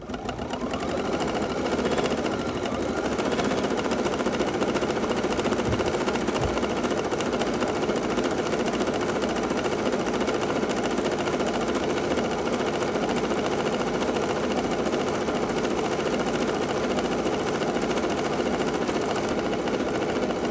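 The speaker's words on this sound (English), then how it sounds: "now I'm going to thread up my first color, which is that 5115 again, and we're going to stitch" An embroidery machine stitches out a block of a red sampler in thread colour 5115. Its rapid, even mechanical chatter runs continuously at close range for the whole stretch, with no talk over it.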